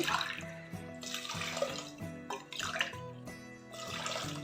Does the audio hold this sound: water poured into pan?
yes